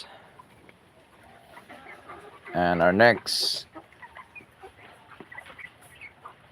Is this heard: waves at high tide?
no